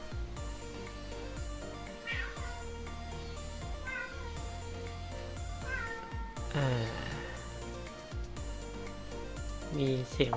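A cat meows several times, drawn-out rising and falling cries close by, mixed with steady background noise and someone talking over it.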